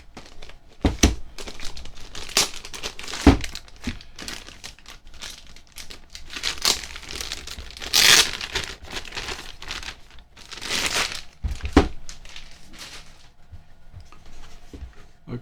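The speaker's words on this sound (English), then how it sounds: "It's in a plastic bag." Close plastic bag crinkling as a compact bench power supply, a Fnirsi IPS 3608, is unwrapped, with steady rustling and sharper crackling bursts that continue throughout with no talk.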